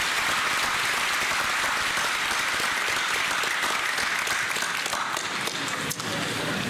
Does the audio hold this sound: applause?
yes